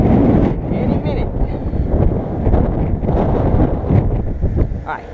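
Gusty wind buffets the microphone outdoors on a rainy day, a loud, dense low rumble that swells and dips throughout, with a voice partly buried beneath it.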